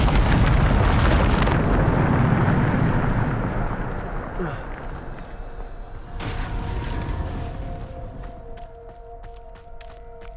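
A Bombarda blasting spell detonates in Hogwarts Legacy with a loud, heavy boom that rolls into a long rumbling decay and fades over several seconds, with faint game sounds ringing on underneath.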